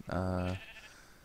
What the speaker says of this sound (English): oh, you can hear the sheep farm,